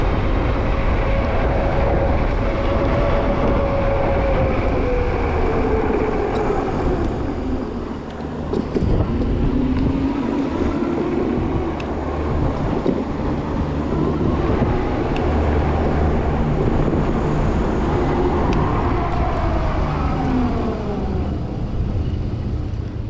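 A Juiced HyperScrambler 2 electric bike cruises across town with a steady rushing wind and road roar, a rising and falling motor whine sweeping through the ride, and no voices.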